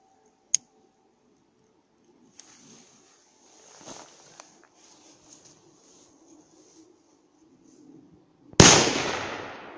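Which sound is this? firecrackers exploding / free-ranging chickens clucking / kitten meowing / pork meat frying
firecrackers exploding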